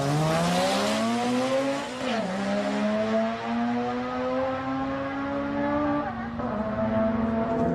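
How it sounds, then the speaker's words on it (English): A blue Nissan Sylvia drag car at a Japanese drag racing meet in Sendai, its engine rising steadily in pitch under hard acceleration with a brief dip at a gear change, loud and close throughout. "This blue Stillway Sylvia was probably the quietest car at the meet"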